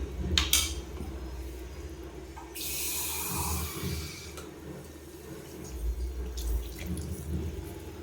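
Half a glass of water is poured into a simmering tamarind brinjal gravy, a brief splashy pour in the middle of the clip, surrounded by light clinks of kitchen utensils.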